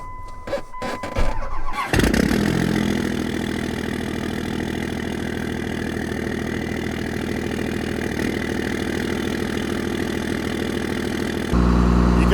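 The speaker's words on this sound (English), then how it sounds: "You gotta love the sound of a second gen on high idle." An old second-generation truck engine cranks briefly, catches with a roar, and settles into a loud, steady high idle that rises slightly in pitch near the end.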